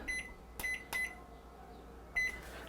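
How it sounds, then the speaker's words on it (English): A kitchen timer set to thirty minutes while saffron syrup simmers on low for fritters, giving four short, clear electronic beeps with pauses between them, alone over quiet room tone. "Set the timer for 30 minutes."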